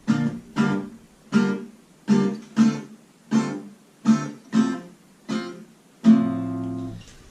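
Acoustic guitar chords strummed in sharp downstrokes, about a dozen evenly spaced strikes in a steady rhythm, the last one ringing out longer.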